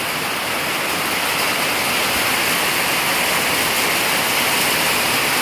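Heavy rain pours steadily during a night storm with strong winds, a dense, unbroken roar of water close by with no talk or pauses.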